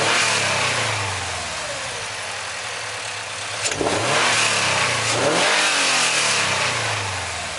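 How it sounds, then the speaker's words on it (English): A 2022 Subaru BRZ fitted with a Takeda cold air intake revs up and drops back in a couple of strong, close pulls, with audible intake induction noise over the engine note and no talking. "You could definitely hear the intake more, you could hear it pull in the air more"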